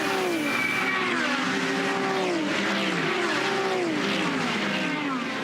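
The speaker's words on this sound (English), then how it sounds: "On board with the MPC JMEC Racing Audi." Onboard Audi race car of MPC JMEC Racing at Bathurst, its engine roaring loud and close throughout with rising and falling pitch sweeps as it shifts through gears at full throttle.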